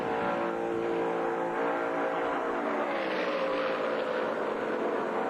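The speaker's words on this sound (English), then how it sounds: "Just listen to the engine" Tony Stewart's Indy race car at Indianapolis Motor Speedway during 1997 Indy 500 qualifying, heard on board as a loud, sustained high-revving engine whine with a slight pitch shift midway.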